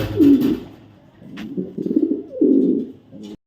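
Racer pigeons with deep, throaty voices give several loud, close rolling coos in bursts, with a brief rustle in between and a sudden stop at the end.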